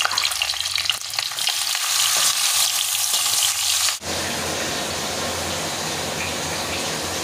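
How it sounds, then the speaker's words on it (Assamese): Pieces of fish sizzle loudly in hot oil in a home kitchen pan, a steady crackling hiss that intensifies sharply midway as more fish goes in, with no talking. "মই এতিয়া মাছ কেইপিচ ভাজি ল'ম"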